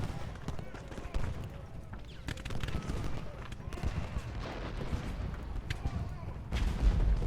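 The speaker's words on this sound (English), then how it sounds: "Oh, canister fire." Canister artillery fire in the Civil War strategy game Ultimate General Gettysburg during the fight for Culp's Hill, heard as muffled booms and crackling volleys over a rumbling battle din, with a voice talking over it.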